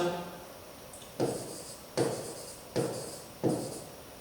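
Writing out a math solution produces four quiet, evenly spaced scratchy strokes, each a short rasp following the one before at a steady pace.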